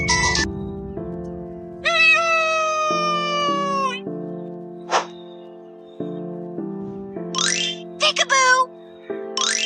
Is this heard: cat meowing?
yes